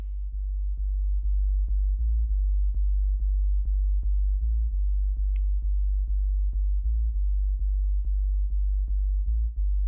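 A deep, boosted bass tone drones continuously and loudly, punctuated by evenly spaced soft clicks about twice per second throughout.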